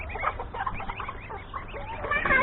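Chickens running from a rooster cluck and squawk in a busy, agitated flurry, fairly close, rising into louder frantic calls toward the end.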